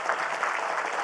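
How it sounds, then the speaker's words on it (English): Audience applause for Laura Curran at a public event, a steady, even wash of clapping filling the short moment without pause. "Our great Laura Curran, let's give her a round of applause."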